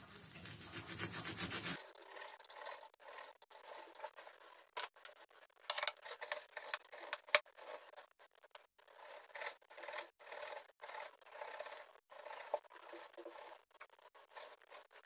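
A knife chops shredded kadayif pastry on a cutting board in quick, close, crisp cuts and rustles at an irregular rhythm, with no talking.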